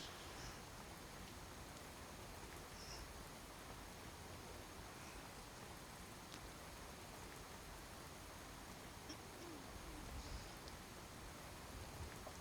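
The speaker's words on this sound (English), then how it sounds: "Does the rain audio sound jacked up to you guys?" Steady, dense rain hiss in the Skyrim video game, sounding harsh and distorted, a flat unbroken wash of noise running throughout with no talk.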